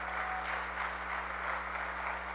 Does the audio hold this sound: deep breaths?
no